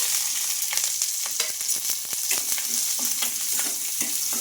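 Chopped onions and green chillies sizzle in hot oil with chana dal, cumin and mustard seeds, a loud, continuous frying hiss broken by stirring scrapes and small pops, close up with no talking.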